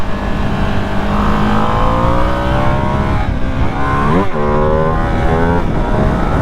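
A Ducati Panigale V2S motorcycle at full throttle, its engine loud and close, winding up through the revs with a quick shift-like dip and climb partway through.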